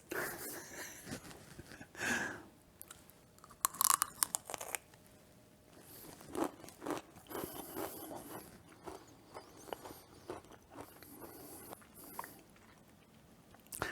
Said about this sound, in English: Crunchy, which you probably heard, creamy, the peanut butter and butterscotch